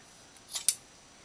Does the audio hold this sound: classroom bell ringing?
no